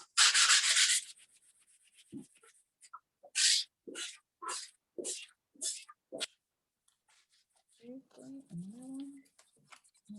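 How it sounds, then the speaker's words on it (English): Fine sandpaper rubs over a leather purse in a series of short, scratchy strokes, one long pass followed by several quicker ones, close and distinct, and a voice speaks briefly near the end. "I'm just going to take my fine sandpaper and just kind of rough it up"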